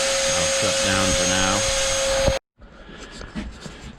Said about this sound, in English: vacuum cleaner on to suck off the dust